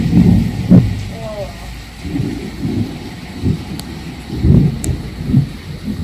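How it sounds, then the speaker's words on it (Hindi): Thunder rolls in repeated low rumbles, several swelling bursts a second or two apart, moderately loud against a quiet background of rain. "बादल की गरजने की आवाज"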